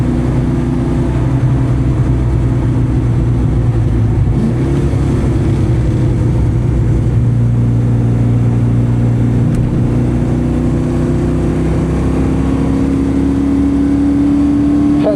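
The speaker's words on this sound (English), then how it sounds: "Lots of wheel spin." A Chevrolet C6 Corvette Z06 drives a race track on its first track day with wheel spin, its engine droning loud and steady with a rising pitch under heavy in-car rumble.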